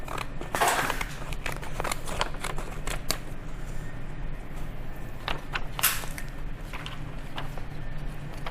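Scissors cutting a small star shape out of heat transfer vinyl for a beach towel, a few crisp, close snips and rustles scattered across a quiet room background.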